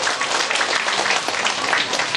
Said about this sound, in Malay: Beri satu tepukan kepada dia.